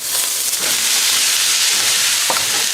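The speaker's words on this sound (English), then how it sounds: "So we're just going to sear the noodles right now." Noodles sear in three to five tablespoons of hot cooking oil in a preheated wok for Cantonese-style chicken chow mein, giving a loud, steady, close sizzle and hiss with faint stirring scrapes and no voices.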